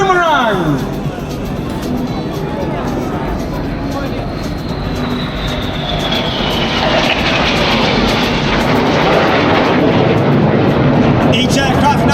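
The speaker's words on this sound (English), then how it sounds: "Each aircraft roll the correct way up to complete the manoeuvre called the boomerang." Red Arrows jets at the Malta airshow sweep through a boomerang manoeuvre, a loud, sustained roar with a descending whine as they pass, while a commentator talks over a crowd murmur.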